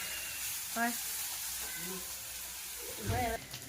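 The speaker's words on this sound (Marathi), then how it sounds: "आपलं लसूण हळद घालायच्या अगोदर भाजी पूर्ण असं परतून घ्यायचं" Chopped greens sautéing in a hot pan, giving a steady, close sizzle and hiss that runs the whole time, with short bits of voice breaking in over it.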